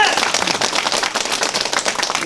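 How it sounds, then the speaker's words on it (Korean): A packed crowd claps together at a parliamentary candidate's campaign office opening, a dense, steady patter of many hands that holds loud and even throughout without letting up. "이거 되기 위해서 박수 한번 칩시다."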